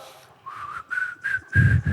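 A preacher whistles a short rising tune during a sermon, a few clear, close sustained notes climbing in pitch, ending as a louder rumble of noise joins.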